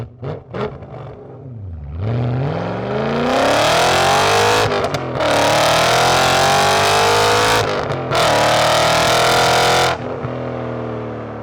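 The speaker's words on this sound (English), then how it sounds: "the new valved exhaust with the valve fully open" A BMW M5 fires up and revs hard, its valved exhaust fully open and bellowing in repeated long surges with short breaks, then dropping back to a steady idle.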